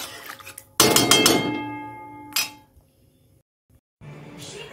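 A metal lid clanks onto a cooking pot in a home kitchen during the making of a fish curry, one bright ringing clatter followed by a shorter clink, then near silence before faint rustling.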